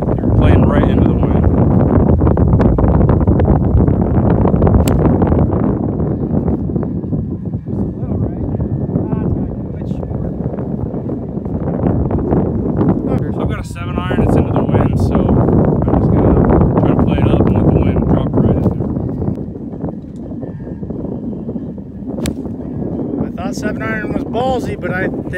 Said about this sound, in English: Wind is strong, guys.